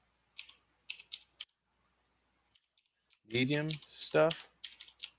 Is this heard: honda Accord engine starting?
no